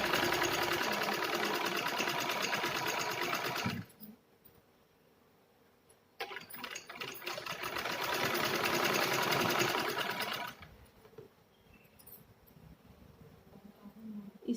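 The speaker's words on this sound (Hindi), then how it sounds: "इसको इसके ऊपर रख के सिलाई लगा।" A sewing machine stitches a 1.5-inch strip of fabric piping onto the pockets of a cloth organizer, running in two steady, close bursts with a quiet pause between them.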